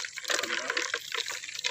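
Water pours and splashes briefly in a close, gurgling stream, fluctuating in loudness over a couple of seconds.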